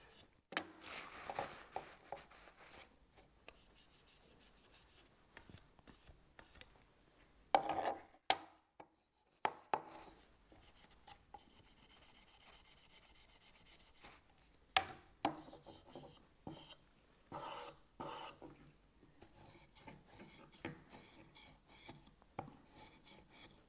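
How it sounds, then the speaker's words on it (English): A cleaning block is rubbed along the blades of pruning tools to strip off residue, giving soft, irregular rasping scrapes in short bursts with brief pauses, close and fairly quiet, with no voices. "with this block, I can just rub away the residue and clean these blades up nicely"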